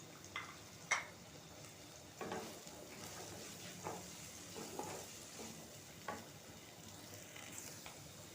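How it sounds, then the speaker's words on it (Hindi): Peas and mixed vegetables fry lightly in a pan, giving a soft, faint sizzle broken by a few sharp stirring taps and scrapes. "मटर डाल के थोड़ा सा फ्राई कर लें।"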